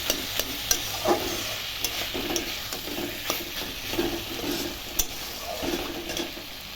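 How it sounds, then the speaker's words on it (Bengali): Boiled vegetables are stir-fried in a pan, a steady sizzle under regular scraping strokes of a spatula that clink against the metal every second or so, close and clear. "সবজি সেদ্ধ হয়ে গেছে ভালো করে একটু ভাজা ভাজা করবো"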